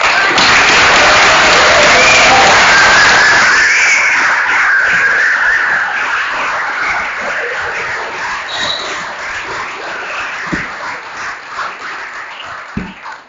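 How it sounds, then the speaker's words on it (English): A crowd at a recovery convention breaks into loud applause that holds for a few seconds, then fades to scattered claps, shuffling and thumps. "I just want you all to give her a clap"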